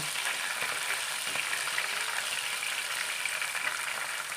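Green chillies, fully ripened, frying in hot oil in a pan while a gooseberry pickle is made, giving a steady, dense sizzle that stays close and even throughout, with no talking.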